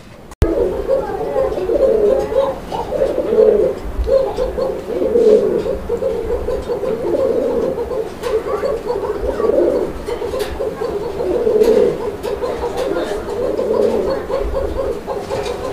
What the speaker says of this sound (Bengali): তো এটা হচ্ছে নান কবুতর একটা জোড়া, ব্ল্যাক রান